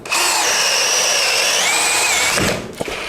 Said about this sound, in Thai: สว่านหลายๆ ตัวเบอร์2ไม่สามารถเจาะแบบนี้ได้นะครับ